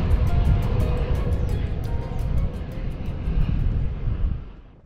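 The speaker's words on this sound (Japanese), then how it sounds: "うおー、吸い込まれるような美しいランディングです。" An Airbus A320 in pink livery lands nearby by the coast, a loud, steady broadband jet roar that holds for several seconds before fading away near the end, with no talking.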